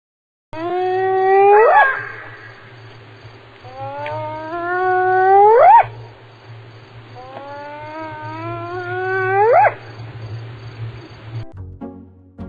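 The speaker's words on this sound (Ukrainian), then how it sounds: "як каже гієна" A hyena gives three rising, wailing howls in sequence, each climbing to a sharp whooping peak, loud and close with a low steady hum underneath.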